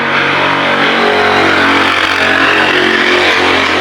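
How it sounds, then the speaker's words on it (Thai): A loud, continuous motorcycle engine roar close by, holding steady and rumbling throughout without pause. "เสียงมอไซค์ดังมาก"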